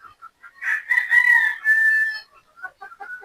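Young Boston Rounded pullets in a pen cluck and call, with scattered short clucks around a louder drawn-out squawk in the middle, fairly close and clear.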